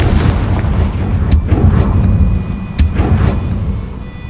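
Confringo fire spell bursting in the Hogwarts Legacy video game, two sharp loud blasts over a dense rumbling game soundscape, with no talking.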